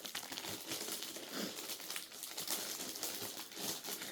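Packaging crinkles and rustles continuously as a parcel is opened, faint and close, with brief crisp bursts of crackling throughout and no speech.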